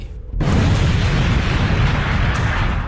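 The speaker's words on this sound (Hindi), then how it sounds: "एक धमाका हुआ, पूरा इलाका गूंज उठा।" A sudden, massive blast erupts after brief quiet as four Iraqi army tanks standing together explode, followed by a sustained, roaring rumble that fills the space and barely fades.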